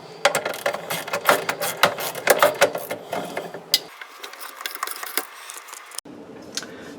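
Screws being removed from a garbage disposal under a kitchen sink drain, heard as a rapid run of close metallic clicks, rattles and light knocks, busy at first and thinning out with brief pauses toward the end.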